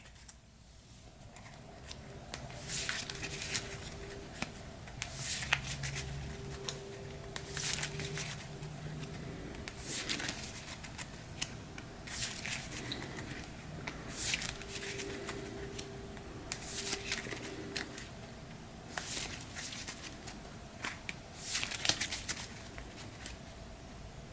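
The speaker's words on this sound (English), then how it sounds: "So we'll shuffle everything back in." A deck of board game cards for Red Rising is shuffled repeatedly, a quiet crisp riffling and patter recurring in bursts, close and soft, with no talk over it.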